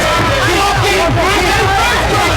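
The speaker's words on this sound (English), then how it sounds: "The crowd is certainly loving this one." Fight crowd at a Greg Foley versus Kozo Mitsuyama bout roaring and yelling, a dense, loud babble of many voices with shouts rising out of it, continuous for a couple of seconds.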